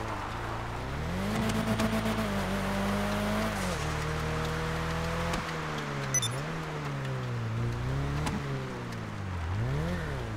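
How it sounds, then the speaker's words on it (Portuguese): A Nissan Skyline GT-R in Grand Theft Auto V revs hard while drifting, its engine pitch sweeping up and down continuously and close with no talk over it. "É, não sei fazer drift direito com esse carro."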